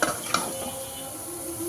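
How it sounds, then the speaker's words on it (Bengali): Dried fish bhuna with melted tomato fries dry in a pan, a short close sizzle and hiss opened by two sharp utensil clinks against the pan. "আর এই তো শুটকি ভুনাটা ভাজা ভাজা হয়ে যাচ্ছে।"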